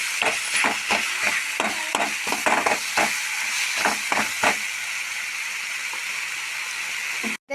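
Greens for a tamarind chutney sizzle and hiss steadily in a hot pan, with a run of scraping stirs early on before settling into a constant frying hiss.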